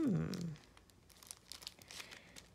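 A plastic bag from a mail package crinkles briefly and loudly at the start, followed by quieter scattered rustles and small crackles, close and with no talking.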